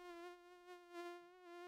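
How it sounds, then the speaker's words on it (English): A steady, high-pitched mosquito buzz drones on without a break, thin and whining with slight swells in loudness. "Mosquito buzzing is constant. It's loud."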